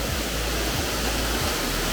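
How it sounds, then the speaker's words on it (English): Tall waterfall in Vermont, roughly 30 to 50 feet high, roaring as a steady broadband rush of falling water, heard alone and fairly loud from a short distance. "it's a good 30 to 50 foot tall waterfall."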